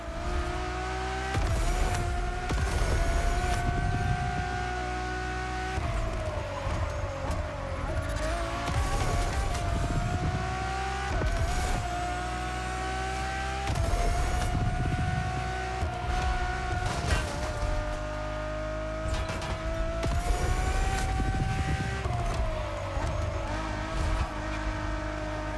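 A Ferrari road-legal hypercar with Formula One-inspired design, driven in The Crew Motorfest racing game, its engine whining and revving steadily through repeated gear shifts, loud and continuous with occasional tire noise.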